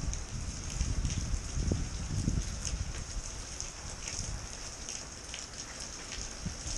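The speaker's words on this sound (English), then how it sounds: "we're having a big, big storm right now." Heavy rain pouring during a big thunderstorm, a dense, steady hiss of downpour with drops drumming on surfaces close by, loud and unbroken with no voices.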